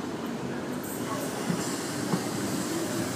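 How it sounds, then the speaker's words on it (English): A Sydney Trains K-set pulls away from a platform at Redfern station, a steady low rolling rumble with faint clicks and a hint of voice nearby. "K-set departing platform 8"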